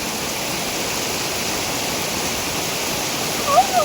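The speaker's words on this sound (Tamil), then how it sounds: "மலையிலேருந்து எல்லா தண்ணியும் வந்து உருகி அப்படியே ஒரு வாட்டர் ஃபால் மாதிரி எல்லாமே இந்த ரிவரில் போய் கலக்கும்ல இந்த இடம்" A mountain meltwater river near Manali rushes like a waterfall in a steady, loud, continuous hiss of churning water that fills the whole scene.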